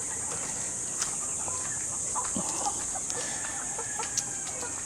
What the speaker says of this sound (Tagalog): Check naman natin yung mga sisiw. Mga 1 buwan na ata itong mga sisiw na to.